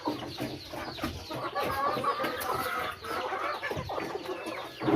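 Several chickens cluck and chatter continuously nearby, overlapping calls at a moderate level with no one speaking.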